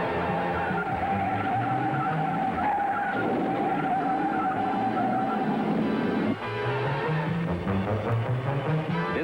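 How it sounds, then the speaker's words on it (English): A race car skids and slides into the wall during practice at the 1963 Indianapolis 500. A long, loud tire screech with engine roar runs continuously for about nine seconds, with a brief dip near the end and no talk. "his third crash in the same turn."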